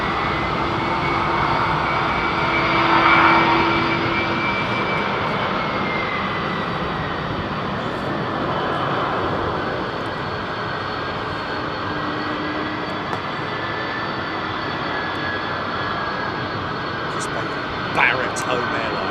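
A 30-year-old Boeing 767 departing London Heathrow Airport gives a loud, steady jet engine roar that swells around the third second, then holds a broad, continuous rumble through the rest of the stretch.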